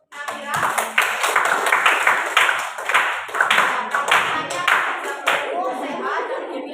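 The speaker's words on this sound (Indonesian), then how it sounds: "silakan tepuk tangan untuk Namira." Classroom audience applause for a student, a dense burst of many hands clapping close by that continues steadily after a sharp start, with voices mixed in underneath.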